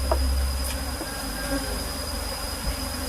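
A full colony of Apis cerana honeybees buzzes steadily and densely at close range, a continuous droning hum with no talk over it.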